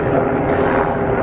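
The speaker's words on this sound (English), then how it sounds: "except when there are helicopters overhead" Aircraft engine noise from a helicopter passing overhead in a large city park, a steady broadband rotor and engine drone that fills the short stretch at fairly loud, even level with no clear beat.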